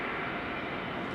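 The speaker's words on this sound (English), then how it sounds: "a Delta A330 that you're now hearing" A Delta Airbus A330 taxiing at Amsterdam Schiphol Airport, its engines giving a loud, steady, broad roaring hum through the brief moment, with no voices over it.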